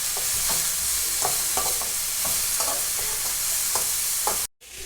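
A stir-fry of agathi flowers with turmeric powder and finely chopped onion sizzles steadily in a pan. Close, repeated scraping stirs sound over the constant frying hiss, which cuts out briefly near the end, with no talking.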